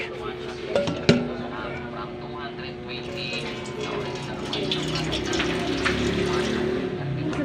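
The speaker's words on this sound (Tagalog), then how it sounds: "ngayon lagyan natin ng kaunting tubig" Water pours and splashes steadily into a cooking pot, a continuous gurgling rush that grows fuller over several seconds, with a couple of clanks at the start and talk in the background.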